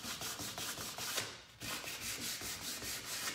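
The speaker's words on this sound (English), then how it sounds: "let me just finish distressing this and sanding this a little bit" Sandpaper rubs back and forth on a painted thrift-store picture frame to distress it, producing rapid, rhythmic scratchy strokes close up with a brief pause midway, and no voices.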